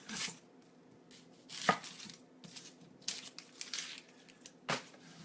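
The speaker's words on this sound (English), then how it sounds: "Onion. Cut the ends off." A knife chops through the ends of an onion on a cutting board, a few sharp separate cuts and taps with quiet pauses between them, close and fairly soft.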